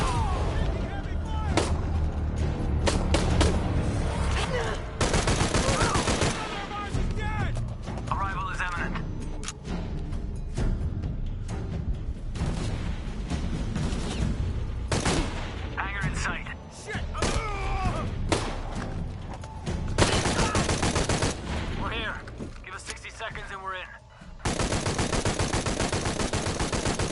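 Heavy gunfire in Shadow of the Tomb Raider keeps up loud, close bursts of automatic fire and thudding impacts almost nonstop, with game voices shouting over the shooting.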